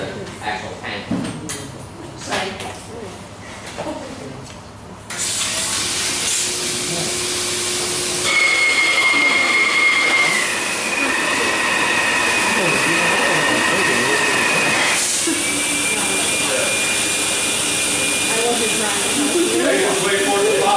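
An air blower roars steadily as it inflates a rehab tent through a hose, a loud continuous whoosh with shifting pitch and whistling tones, and people talk over it.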